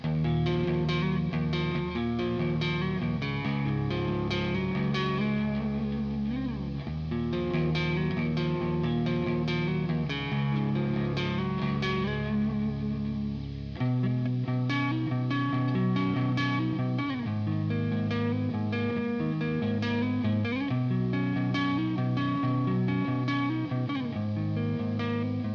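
An electric guitar runs through the Audio Assault Bulldog amp plugin with reverb, playing sustained notes and chords with a long, washing tail and one clear change of chord midway, with no speech.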